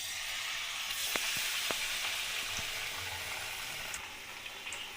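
Eggplant fritters (beguni) in batter fry in hot oil in a wok, giving a steady close sizzle with a few small pops and taps.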